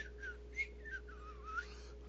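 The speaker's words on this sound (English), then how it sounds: "Just kind of lightly whistling." A person whistles softly in a gentle, wavering melody of a few rising and falling notes, faint and close against a low steady indoor hum.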